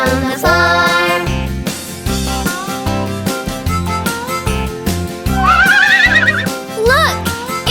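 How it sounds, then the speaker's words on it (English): A horse whinnies in a few quick, high rising neighs over a bouncy children's song with steady music, and a short second whinny follows soon after. "Look, it's a real horse."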